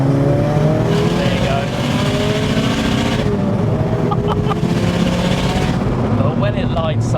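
Big-turbo Vauxhall Corsa pulling hard at full throttle in second gear from low revs, a loud rising engine note with turbo lag building, voices talking over the run.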